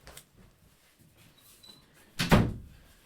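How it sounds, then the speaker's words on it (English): A door swung shut in a home, one solid thunk near the end after quiet room tone, fairly close and alone. "Let me close this door."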